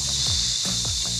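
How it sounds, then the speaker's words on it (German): Meat sears in a honeycomb-coated frying pan with a loud, close, continuous sizzle and hiss, crackling steadily throughout without any talking. "Krosses Anbraten von Fleisch."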